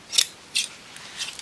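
Scissors snipping through tulle fabric in three quick crisp cuts spaced about half a second apart, close and clear with no talk.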